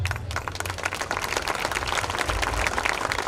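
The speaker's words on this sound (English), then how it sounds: "A huge round of applause." An audience at a school annual day celebration applauds loudly and continuously, a dense wash of many hands clapping close by, with no break.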